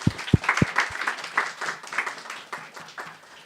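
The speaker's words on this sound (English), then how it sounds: "Let's give a round of applause." An audience at a career week management panel applauds, a brief spatter of claps at first that swells into steady, moderately loud clapping and then tapers off.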